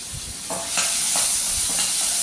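Tomatoes with onion, ginger and capsicum sautéing in a pan, a loud continuous sizzle with a few soft stirring scrapes.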